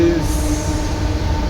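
A train runs at midnight, heard from inside a nearly empty passenger coach: a steady rumbling roll with a faint metallic whine from the wheels and no talking.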